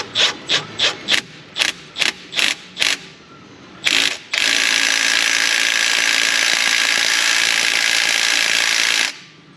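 A 90-degree impact wrench refits a part on a Nissan Frontier 3.3 4x4 engine. It fires a string of short, loud rattling bursts, then runs in a long, steady, close-up whir before stopping.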